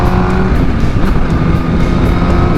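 A big bike motorcycle engine drones steadily and loudly on a ride along the CAVITEX expressway, with continuous wind and road rumble and no pauses.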